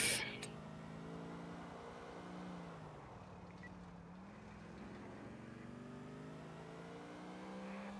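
A Habanero SUV in GTA 4 revving its engine, a sustained droning growl with shifting pitch that rises and dips, steady and fairly close for several seconds.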